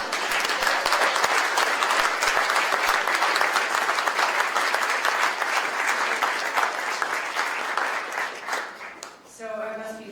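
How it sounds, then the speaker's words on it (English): Audience applause in a hall after a campaign launch speech: dense, sustained clapping from a large crowd, loud and steady throughout, fading out near the end. "I think you should all applaud yourselves"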